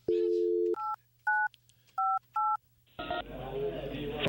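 A burst of short electronic telephone keypad dialing tones, about five beeps in an uneven rhythm, preceded by a steady tone and followed by a noisy, clattering line sound.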